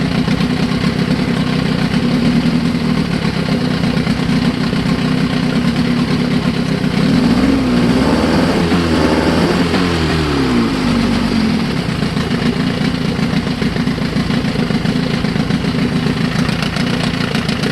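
A 1998 Force 50 HP outboard motor, just rebuilt carburetor, idles steadily and loudly up close with a low, continuous drone that briefly wavers in pitch midway, with no talking.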